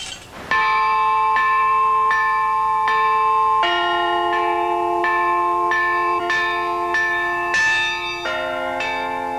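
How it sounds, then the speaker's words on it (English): Church bells exported from Leningrad ring loud and near, a series of distinct metallic strikes about once a second with long sustained overtones, the pitches shifting between strokes. "small, medium-sized, and large bells were exported from Leningrad with the relaxation of such prohibitions in the Soviet Union following recent events"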